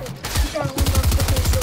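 Rapid gunfire in a 4v4 video game boxfight, a dense burst of evenly spaced shots rattling loudly through the second half after a brief rustle, close and prominent.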